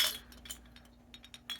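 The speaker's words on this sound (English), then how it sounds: "mercury glass looking" Several light clinks of mercury glass skull-shaped lights knocking together, a quick scattered run of bright taps close by with quiet pauses between them.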